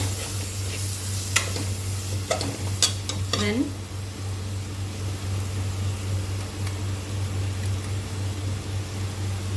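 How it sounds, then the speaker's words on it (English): Masala spices for chicken biryani get stirred in a pressure cooker, with several sharp scraping clicks of a utensil against the metal pot over a steady low hum and faint background sizzle. "So once all the masalas are added, give it a nice stir."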